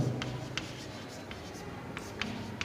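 Chalk or marker strokes on a classroom board during a chemistry lesson, a handful of short scratchy taps and squeaks spaced irregularly, faint and close, with a low room hum beneath.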